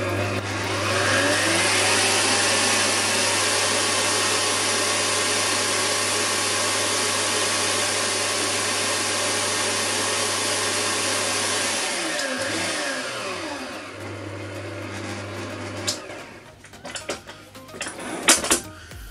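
An electric mixer whirs steadily at high speed through a homemade ice cream mixture, a loud continuous motor hum that slows, changes pitch and finally stops, followed by light clatter.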